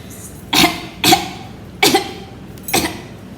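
A person coughs four times in quick succession, each cough close and distinct with short pauses between them.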